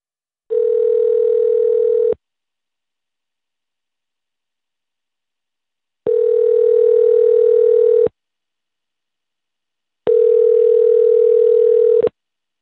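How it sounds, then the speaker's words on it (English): A telephone dial tone sounds while a dropped call is redialed during a phone interview: three loud, steady tone bursts of about two seconds each, separated by silence, with no talking. "dial back here."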